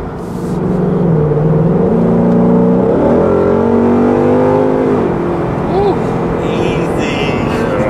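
A 2018 Ford Mustang GT engine rises in pitch as the car accelerates hard, then settles into a loud, steady drone heard from inside the cabin, with voices speaking over it.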